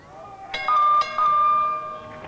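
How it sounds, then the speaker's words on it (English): A kickboxing round bell rings twice in quick succession, a bright sustained metallic tone with lingering decay, fairly loud over faint arena ambience. "Here's the bell, and it's round 4."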